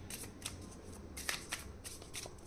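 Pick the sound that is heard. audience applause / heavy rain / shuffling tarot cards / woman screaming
shuffling tarot cards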